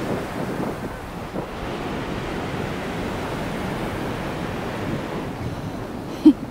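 Crashing sea waves and strong wind on an Anglesey beach in Wales, with foam blowing about, a loud continuous roar of surf and wind buffeting the microphone, then a sharp knock near the end.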